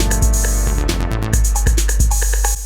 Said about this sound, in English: So now you have an idea of how you might create a simple little house tune on both units.